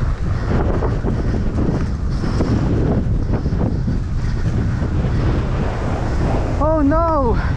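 Strong wind buffets the microphone outdoors at a bike park in a steady, loud rush; a short whistle-like warble rises near the end.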